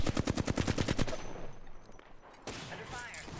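Rapid automatic gunfire rattles in a video game, a loud burst of evenly spaced shots lasting about a second, followed by quieter game noise and a brief voice.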